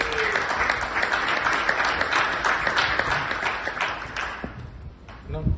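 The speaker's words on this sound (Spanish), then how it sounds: "por favor un aplauso para John, que se la jugó con viajar acá." A conference audience claps for a speaker at a talk on card transaction processing with OTP and Elixir, producing a sustained, crackling round of applause from a room full of people that thins out near the end.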